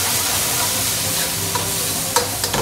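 A dash of white wine hits a hot pan of spicy pasta, bursting into loud continuous sizzling with stirring, a few sharp clatters near the end, no talk.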